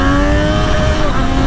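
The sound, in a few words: Triumph Street Triple RS motorcycle accelerating with throttle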